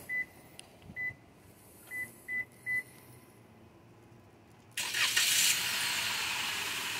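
A remote starter on a 2020 Toyota RAV4 gives a series of short beeps, a pause, then the engine cranks and catches into a steady idle, heard close by.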